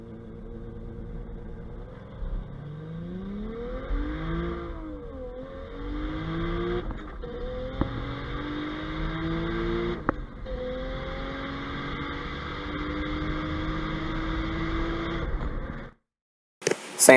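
A budget Lexus IS300 accelerates hard down a dragstrip, the engine note climbing through the gears up to fourth with rising pitch sweeps and brief dips at each shift, loud and sustained until it cuts off.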